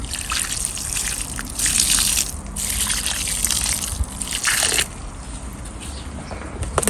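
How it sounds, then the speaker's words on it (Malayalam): Water poured onto a newly planted blueberry plant outdoors: a continuous close splashing and trickling stream that swells and eases in surges over several seconds, with no one speaking. "ഇനി നമ്മൾ ആ വെള്ളം തന്നെ അങ്ങോട്ട് ഒഴിച്ചു കൊടുത്തേക്കാം"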